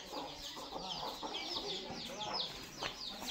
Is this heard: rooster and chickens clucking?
yes